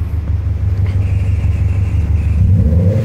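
2005 Subaru WRX STi engine revving, a loud close deep rumble that holds steady and then rises slightly near the end, with no voices over it.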